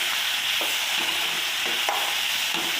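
Fish frying in a pan in a home kitchen, a steady bright sizzle of hot oil with a few soft scraping stirs, close and continuous without speech.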